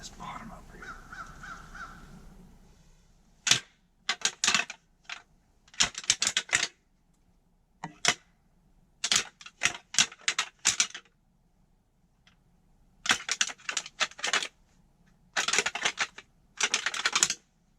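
Antlers rattled together to call whitetail bucks during the November rut in the Ozarks, a series of sharp clicking and clattering bursts in irregular groups against a quiet background.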